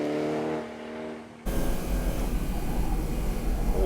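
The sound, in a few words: car engine during mountain pass time attack run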